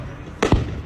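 A single firework bursts close by with a sharp, short boom followed by a quick thud, then the night air goes quiet again.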